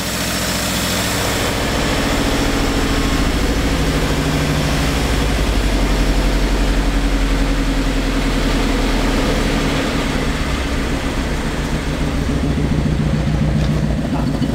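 A 1960 Škoda Octavia idles after years of standing unused, its engine giving a loud, steady, low rumble up close for the whole stretch, with no talking over it.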